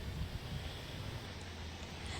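Steady wind buffets an outdoor microphone on a windy morning in Parsons, a continuous low rumbling roar that stays fairly even and fills the whole stretch without pauses or voices.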